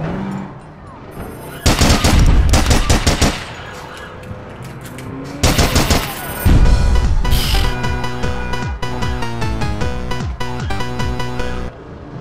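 Loud in-game gunfire in APB Reloaded, with bursts of rapid automatic shots separated by quieter stretches and a background music bed.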